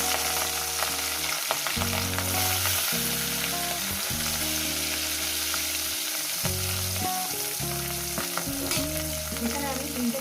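Large mrigel fish pieces fry in hot oil, a dense continuous sizzle and crackle with rhythmic stirring thumps and scrapes throughout, near and steady with no voices.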